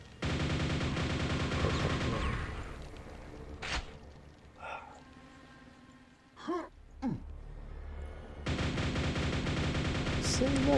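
Quake's nailgun fires continuously in a rapid, buzzing stream for a couple of seconds, falls quiet with a few brief grunts and scattered noises, then starts again in another sustained burst near the end.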